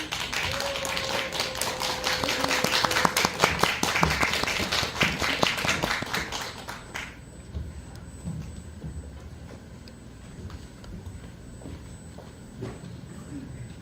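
An audience at a Korean church winter gathering claps in a dense wash of applause for about seven seconds. The clapping then fades into a quiet room with soft rustling and low murmurs.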